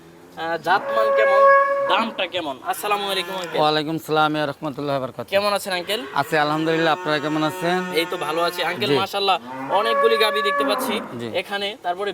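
Dairy cows on a Bangladeshi farm selling high-yield milking cows, lowing loudly and repeatedly in long drawn-out moos, close by, with people talking in between.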